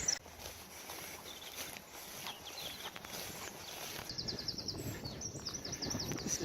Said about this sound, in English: Very green and birds singing.